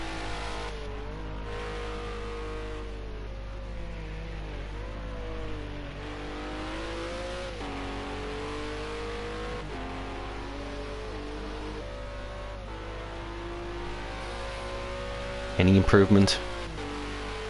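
A race car laps Snetterton in a sim racing video game, its engine note rising and falling steadily through gear changes, and a sharp burst near the end, heard under ongoing commentary.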